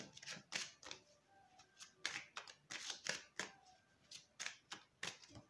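Oracle cards from a deck are drawn and spread across a surface, with quick crisp slaps and riffles coming in an irregular series of short bursts, close and fairly quiet, with no talk.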